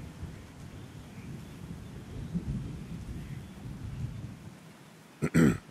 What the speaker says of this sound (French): J'en peux plus de cette pluie.